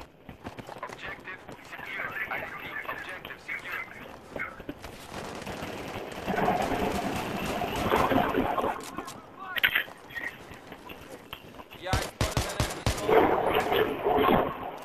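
Rifle fire from an SKS in the survival shooter Aftermath at Talah Market, with scattered sharp shots and bursts mixed among other gunfire, heard under and between people talking.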